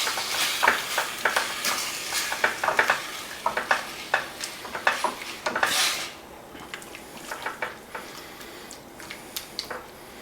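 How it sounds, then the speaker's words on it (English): Canned unsalted diced tomatoes sizzle with Italian sausages, roast onions and peppers in a pan, a crackling fry punctuated by many sharp clinks and scrapes of a utensil against the pan, with no talking. "I'm going to throw a can of tomatoes in there"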